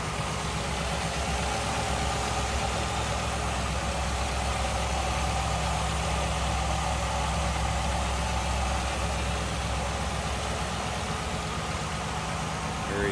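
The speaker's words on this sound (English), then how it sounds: "Got that engine running underneath the hood." A 1957 Ford Fairlane 500 Skyliner with its 292 V8 idling under the hood, a steady, quiet low rumble that holds evenly throughout with no revving.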